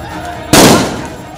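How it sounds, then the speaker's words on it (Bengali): Police gunfire at point-blank range: one sudden, loud, close blast that cuts through a low background murmur and then decays over a fraction of a second. "পুলিশের সামনে বুক চিতিয়ে দুহাত প্রসারিত করে দাঁড়ানো আবু সাইদকে পয়েন্ট ব্ল্যাঙ্ক রেঞ্জ থেকে পুলিশ গুলি করে।"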